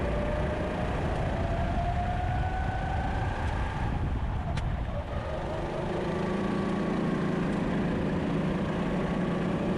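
A racing kart engine drives around a slick track, its steady buzzing drone rising and falling in pitch as the throttle opens and eases through a turn, loud and continuous with no talk.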